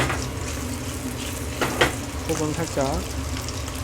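Squid body pieces frying in a pan with butter and oil for paella, a soft steady sizzle with a few stirring scrapes, under brief quiet talk.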